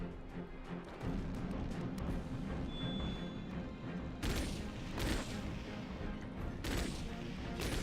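Tarakian rifles firing in the mech video game Chromehounds make a quick run of heavy, booming shots over a rumbling combat background, with louder blasts bursting in partway through.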